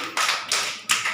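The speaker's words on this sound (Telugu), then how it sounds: "క్లాప్స్ కొట్టండి అందరూ." An audience clapping hands in unison, three sharp, evenly spaced bursts of claps in quick succession, close and fairly loud, with no talking.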